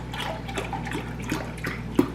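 Oat milk, about 500 milliliters, pours into a blender in a home kitchen, a steady close trickle and slosh of liquid running throughout with a small splash near the end.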